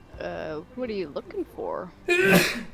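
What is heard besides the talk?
sneeze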